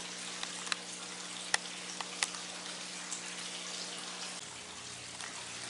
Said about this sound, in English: Here we have a bubbling brook,